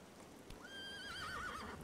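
A horse in a video game lets out a rising whinny that breaks into a wavering, trembling neigh, fairly clear over a soft background hiss.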